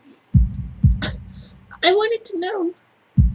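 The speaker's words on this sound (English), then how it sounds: "All the while, the anxious beating of my heart grows louder." A pounding heartbeat sound effect from the visual novel game Katawa Shoujo: deep, loud thuds in a slow pair, pausing, then returning, with a voice speaking between the beats.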